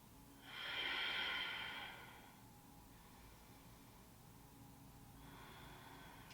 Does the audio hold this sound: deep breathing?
yes